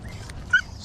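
Dogs in a fishing trailer give a brief, high whimper over a steady low rumble, short and moderately close.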